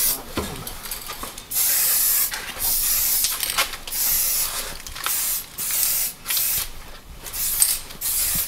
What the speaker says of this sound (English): he's got his spray can.